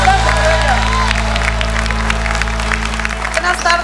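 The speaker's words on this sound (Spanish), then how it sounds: "Un fuerte aplauso para ella." A rally crowd applauds Sonia Mendoza Díaz at a campaign-closing event in San Luis Potosí, with steady clapping and some cheering held at an even level over a low electrical hum throughout.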